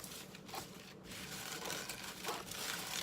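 Cut blue paper crumpled by hand for a Sesame Street Ernie birthday centerpiece, a quiet, continuous crinkling and rustling close by with no talk.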